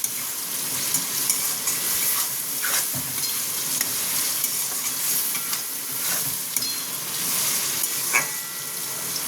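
Vegetables for veg chow mein frying and being stirred in a pan, a steady close sizzle with intermittent scraping stir strokes throughout, no talking.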